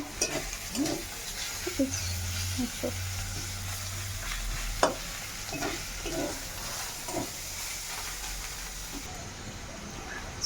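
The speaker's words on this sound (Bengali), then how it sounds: "মাংস হ্যাঁ মাংস কষা" Meat being sautéed (kosha) in a pan in a home kitchen, with steady sizzling and frying hiss and repeated stirring scrapes across the whole stretch, plus a low hum beneath.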